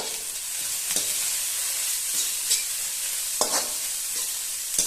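Chopped vegetables with carrot frying in a pan for soup, giving a steady, loud sizzle. Scraping stirs cut through it at intervals, with no one speaking.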